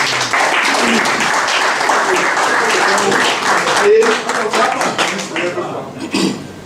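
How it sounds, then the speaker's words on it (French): An audience at a company presentation applauds, a dense steady patter of clapping lasting several seconds, with scattered taps and some voices mixed in before it fades near the end. "Applaudissez pour Younous, s'il vous plaît"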